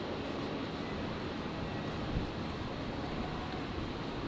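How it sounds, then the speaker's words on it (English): A Qantas jet airliner rolls for takeoff on runway 01 right at Brisbane International Airport on a stormy night, its engines a continuous, fairly distant broadband roar that holds steady. "So Qantas 939 here. Rolling now."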